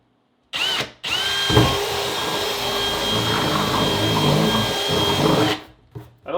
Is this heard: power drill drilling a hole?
yes